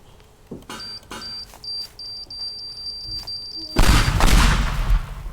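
Bombs in the destruction sandbox game Teardown: a run of sharp electronic timer beeps, then a sudden loud, roaring explosion that rumbles and fades over the last seconds.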